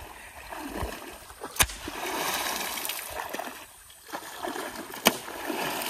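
Splashing in water as someone wades to drive fish toward an encircling net during fishing in the Sundarbans, with irregular sloshes and a couple of sharp slaps over a steady watery background, close by.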